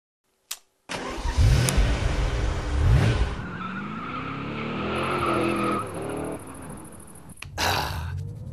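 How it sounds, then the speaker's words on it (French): A car drives along after a door thump, its engine rumbling and tyres hissing loud and close, with a brief squeal-like sweep partway through and another thump near the end. "Je vais profiter de ce voyage en voiture"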